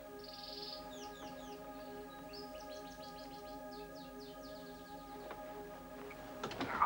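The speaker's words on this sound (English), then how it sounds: "Listen to the birds." Birds chirp in faint, rapid trilling bursts over a quiet, steady background hum, with a sharper knock near the end.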